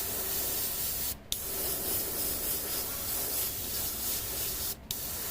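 An airbrush sprays paint onto a miniature grizzly bear model in a steady close hiss, broken by two brief pauses where the trigger releases with a small click before the spray resumes.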